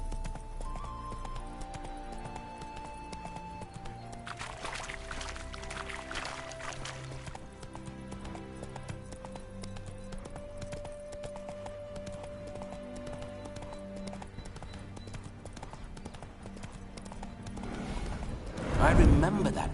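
Hooves of Roach, the horse in The Witcher 3, clip-clop along under game music and layered ambience, with a brief louder burst near the end.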